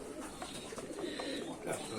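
Soft pigeon cooing close by, a few low murmuring calls over a steady background with faint voices.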